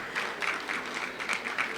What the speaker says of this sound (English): A big round of applause for the Pennsylvania Senate members I see here in the House.